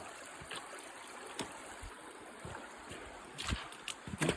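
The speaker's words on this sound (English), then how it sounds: "Oh, it's actually a stream." Water of a small stream flows and trickles steadily at Parfrey's Glen, with a few nearby splashes and knocks toward the end and no talk.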